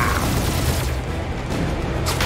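Dense sci-fi gunfire and blasts during a spaceship battle in Guardians of the Galaxy, a continuous loud barrage with no pauses, close and overwhelming.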